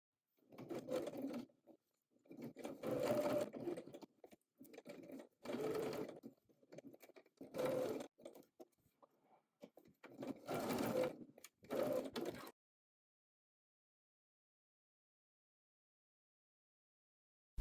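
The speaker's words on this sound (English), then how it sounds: "Edge stitch and top stitch them as we did with the pockets." A sewing machine runs in several bursts of a second or two each, edge stitching and top stitching pocket flaps, close and buzzing with short pauses between runs, then silence.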